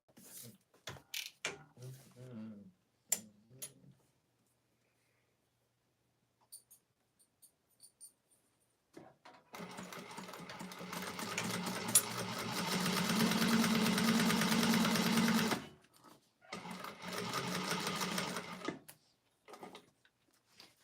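A sewing machine runs a steady stitching burst across a clutch wallet seam, starting after a few scattered handling clicks and stopping briefly before a second shorter run, close and clear.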